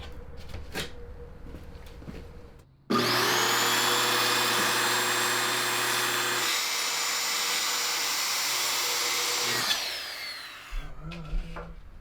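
A power saw cuts through a piece of wood for a drifting mini bike build, a steady loud whine lasting about seven seconds, starting abruptly and tapering off, with quieter workshop sounds before and after.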